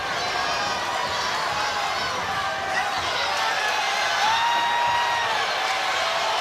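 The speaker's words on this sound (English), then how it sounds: "Hear that crowd, baby." Boxing arena crowd cheering during a professional fight, a dense continuous roar with whoops and shouts rising and falling, sustained throughout under a commentator's voice.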